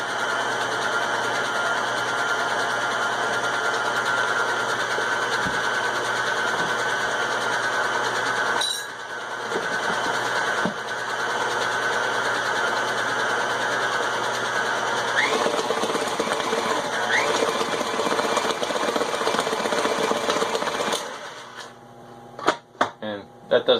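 Stand mixer creaming butter for panettone, a continuous whirring motor drone with a rattling mechanical edge that runs steadily, wavers briefly, then cuts off near the end.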